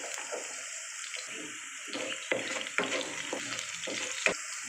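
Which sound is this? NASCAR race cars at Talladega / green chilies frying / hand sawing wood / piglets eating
green chilies frying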